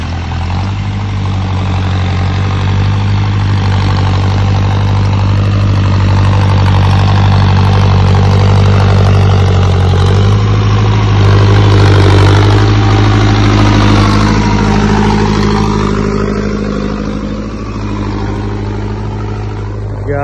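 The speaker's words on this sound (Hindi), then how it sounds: "हो गए दोहे ट्रैक्टर कट्ठे भाई" Two tractors sit together on a farm field, their engines idling in a loud, steady low diesel rumble that swells slightly midway and holds without break.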